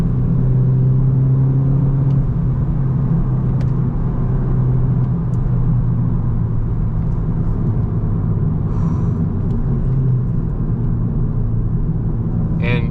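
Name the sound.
Volkswagen GTI 300 hp engine accelerating hard while driving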